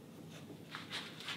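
A pencil scratches short marks onto a wooden platform and face at a workbench, a few quiet, close strokes in quick succession.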